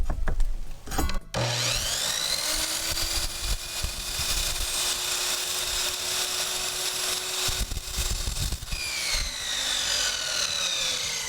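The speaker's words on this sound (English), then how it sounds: "I'll finish up the corners here using just a hand saw" A hand saw cuts the corners of a wooden arcade cabinet bezel with steady, continuous rasping strokes that run for most of the clip, close and loud, after a few brief knocks at the start.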